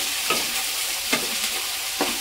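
Curry leaves and vegetables fry in a pan with asafoetida for South Indian sambar dal. A soft steady sizzle runs throughout, and a spoon scrapes and stirs the pan about three times at regular intervals.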